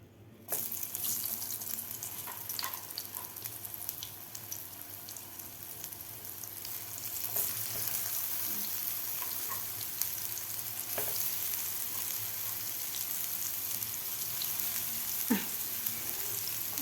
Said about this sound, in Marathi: मिडियम गॅसवर व्यवस्थित आपल्याला हे फ्राय करून घ्यायचे आहेत